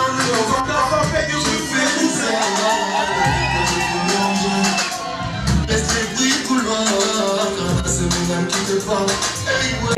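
A wedding party crowd at an indoor celebration cheers, whoops and shouts continuously and loudly, with music underneath and no clear applause rhythm.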